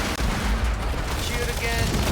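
Bombardment gunfire in Warframe during the Profit-Taker fight, a dense, loud, continuous barrage of blasts and rumbling explosions filling the whole moment without pause.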